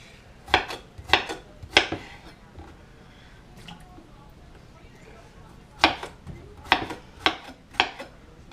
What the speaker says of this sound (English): you just keep repeating that till all your potatoes are cut into French fries